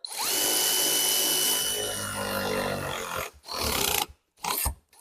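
A power tool tightens new 10mm bolts on the front suspension of a Volvo V50 during a coil spring replacement: a loud continuous whirring burst, followed by several short, choppy bursts separated by brief pauses.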